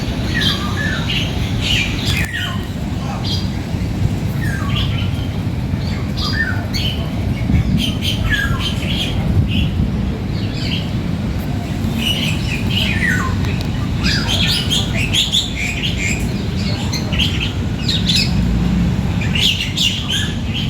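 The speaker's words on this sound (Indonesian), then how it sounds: "berbagai burung dengan suara yang sangat merdu" Many birds squawk and chirp in a city park in Jakarta, their calls overlapping in a busy, continuous chorus over a steady low background of urban hum.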